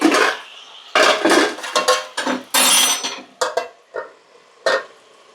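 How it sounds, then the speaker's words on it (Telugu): A metal lid is set onto a pot of amla for pickle with a series of sharp, close clanks and rattles, about half a dozen separate knocks spread over several seconds with brief quiet gaps between them. "ఇప్పుడు మూత పెట్టేయాలి"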